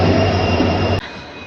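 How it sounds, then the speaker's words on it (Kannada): A train pulling away produces a loud, steady low rumble with a droning hum, which drops suddenly to a quieter background after a second. "ಟ್ರೈನ್ ಹೊರಟು"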